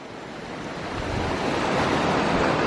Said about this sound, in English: there was no good way across the creek, so I decided to ford